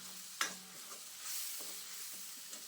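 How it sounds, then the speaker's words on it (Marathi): Cumin, mustard seeds and an onion, tomato and garlic paste fry in hot oil, with a faint, steady sizzle, a sharp tap early on and a few soft stirring scrapes. "जिरे मोहरी तेलात टाकली आणि त्याच्यानंतर जी आपण पेस्ट करून घेतली होती कांदा टमाटो आणि लसूण ते तेलामध्ये पुणेला टाकून दिली आहे"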